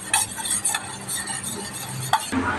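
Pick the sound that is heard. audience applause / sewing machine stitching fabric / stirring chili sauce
stirring chili sauce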